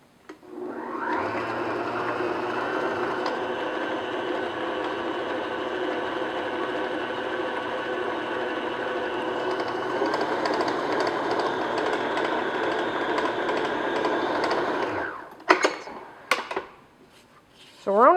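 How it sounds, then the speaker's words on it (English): A mixer steadily beats brown sugar and pure vanilla extract into chocolate chip cookie batter, a continuous whirring drone lasting about fifteen seconds before stopping, followed by a few short clinks and bumps. "So we're only going to beat this until it's incorporated and a little fluffy."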